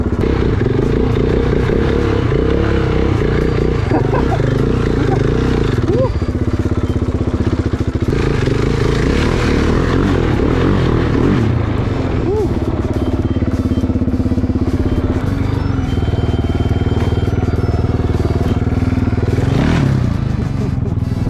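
A motorcycle engine runs loud and close for the whole stretch, with a few throttle blips, scraping and clatter as the bike is pushed over rough grass and bumps, and some voices underneath.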